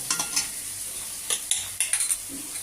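Small kachki fish slipped into a pan of frying spice paste: a soft sizzle runs underneath while a spatula makes several light scrapes and taps, close by and quiet.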